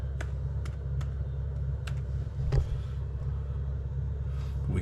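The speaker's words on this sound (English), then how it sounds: "this is for a Raspberry Pi, little wireless keyboard that'll do what I need it to do when I need it" Quick, light key clicks from a small wireless Raspberry Pi keyboard, a handful of sparse taps over a low steady rumble.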